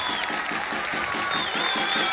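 Audience applause at an event, a moderate burst of clapping from a crowd, steady and fairly close, with whistles or tones faintly over it.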